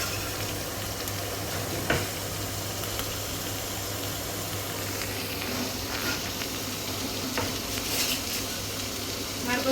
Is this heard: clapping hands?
no